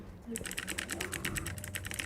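A Razer mechanical keyboard with blue switches clicks in a quick, busy run of sharp, bright keystrokes, close and fairly loud, with faint voices in the background.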